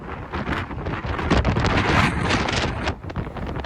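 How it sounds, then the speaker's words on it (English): Strong night wind on the Golden Gate Bridge in San Francisco buffets the microphone in loud, rough gusts that roar and rumble for a few seconds, with no talking. "It is incredibly windy out here on the Golden Gate Bridge in San Francisco."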